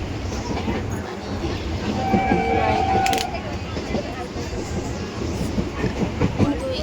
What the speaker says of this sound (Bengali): আজকে ট্রেনে এতটাও ভিড় নেই